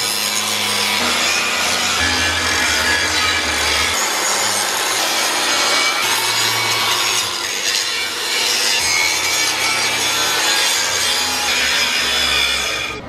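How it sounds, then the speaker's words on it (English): An angle grinder on the metal belly pan of a Vermeer BC1500 wood chipper, stripping paint and burnt material with a loud, continuous abrasive scraping and rasping that stays close throughout, without speech. "we're just gonna go ahead and grind all this area and then take all the paint off and all the burn materials that are here"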